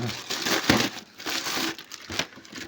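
Packing paper crinkles and crunches as a Teclast M50 Pro tablet is unboxed, with bursts of close, crisp rustling and a voice talking over it.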